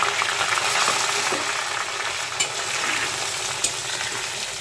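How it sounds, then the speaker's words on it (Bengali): Hog plums frying in hot oil with dried chilli, garlic and five-spice for a sweet and sour pickle, a loud, steady sizzle with occasional stirring clicks and scrapes, with no voices. "আস্তে আস্তে করে তেলের ভিতরে আমড়াটা ভেজে নিব"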